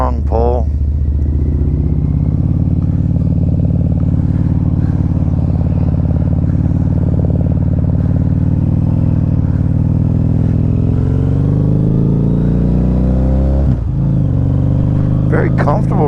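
Harley-Davidson V-Rod Muscle, a 2012 motorcycle, rumbles with a deep, steady engine note while being ridden, rising in pitch as it pulls, with a person talking over it throughout.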